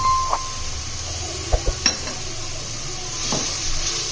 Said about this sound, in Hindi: अब हम इसमें इमली का पल्प ऐड करेंगे